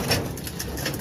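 Racing pigeons coo softly at feeding time, several low murmuring calls repeating over a faint background hum, with no one speaking.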